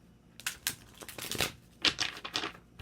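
Tarot cards being shuffled, quick papery riffles and flicks in several uneven bursts, fairly close and loud with no talking.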